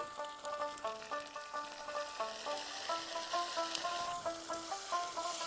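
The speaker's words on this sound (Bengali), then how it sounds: "সব মশলাগুলোকে এবারে ভালো করে মিশিয়ে দিচ্ছি আদা রসুনের কাঁচা গন্ধ যাওয়া অবধি এইভাবে একটু ভালো করে ভেজে নিতে হবে" A paste of ground green chilli, ginger, garlic and onion fries in a pan with a soft, constant sizzle beneath a louder melodic music track.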